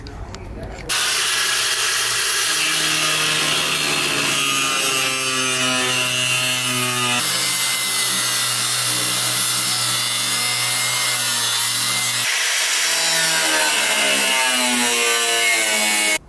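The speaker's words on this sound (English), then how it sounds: "Grinder noises." A power grinder working on fiberglass bedsides for a Toyota Tundra truck, a loud continuous whining roar that shifts pitch as the load changes, close by for the whole stretch.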